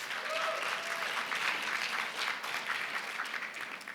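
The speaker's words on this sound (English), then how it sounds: "Oh, we got to clap a little louder than that." A meeting audience claps steadily and fairly loudly after a dance team's performance, the dense applause holding even throughout and tapering only slightly at the end.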